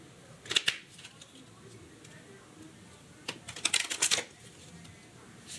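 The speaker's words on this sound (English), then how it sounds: "So we are going to shuffle the deck." Two quick riffles of a card deck being shuffled, close and fairly quiet, separated by a pause, with faint room noise between.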